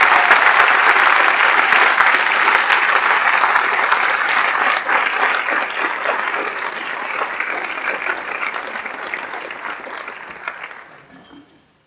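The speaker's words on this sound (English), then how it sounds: "Let's have a round of applause for all of our veterans for 30 years." Sustained applause from a large audience at a school staff recognition ceremony honoring 30-year veterans, steady and dense for about ten seconds before fading out at the end.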